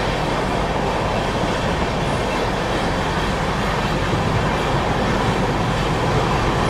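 Humsafar Express running past Nipaniya station on the Durg to Nizamuddin route, a dense, constant rushing roar of carriages with clickety-clack and faint wheel squeal, loud and close without pause.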